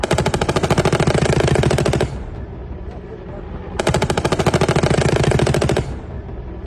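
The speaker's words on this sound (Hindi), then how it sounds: "वाना अजम इलाके में पाक की सेना अंधाधुंध गोलीबारी कर रही है" Pakistani army gunfire in the Wana area of South Waziristan: two loud, close bursts of rapid automatic fire, each about two seconds long, separated by a short lull.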